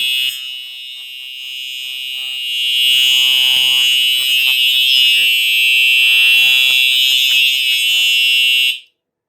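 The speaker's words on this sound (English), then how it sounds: "let's do a little bit of a smoke detector test. Oh, there it goes." A piercing electronic smoke detector alarm blares continuously at high pitch during a fire alarm system test, loud and close, then cuts off abruptly.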